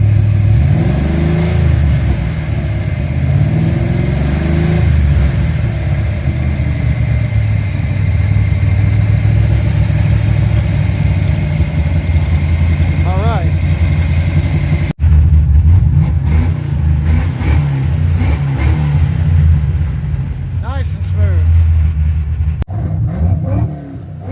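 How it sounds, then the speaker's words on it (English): Car engine fitted with an Edelbrock 1405 carburetor, replacing a QFT unit, revs up repeatedly from idle in loud, close bursts, rising and falling throughout with a steady rumble underneath. "Rev it up some. A little more."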